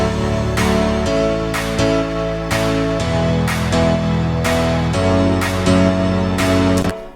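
Big layered pianos, a Kontakt Alicia Keys patch stacked with a Korg M1 piano, play loud sustained chords in a pop production. The chords change in a regular rhythm and swell densely without pause.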